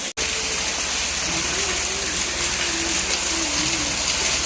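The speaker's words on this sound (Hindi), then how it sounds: "ये रास्ते में झरना पड़ा, बहुत ही सुंदर झरना है, बहुत ही ऊपर से आ रहा है ये" A waterfall pours down beside the mountain road at Jalori Pass, a loud, continuous broadband rush of falling water, with a faint tonal hum running underneath.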